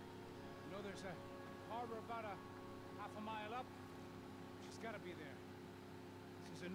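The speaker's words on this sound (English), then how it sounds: "This noisy ass boat, motorboat." A motorboat engine in the video game Max Payne 3 drones steadily at a low level while a voice talks over it in short bursts throughout.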